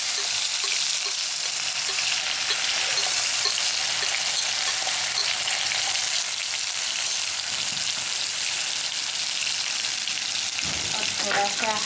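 A paste of onion, garlic, ginger and dried chili fries in hot oil for an Odia-style tamarind fish gravy, giving a steady, loud sizzle with faint stirring scrapes throughout, uninterrupted by speech.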